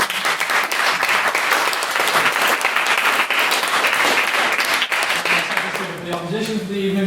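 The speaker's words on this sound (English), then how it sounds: "Another round of applause for another maiden speaker" Sustained applause from a debating society audience greets a maiden speaker, loud, dense clapping filling the room for about six seconds before thinning out as a voice begins speaking near the end.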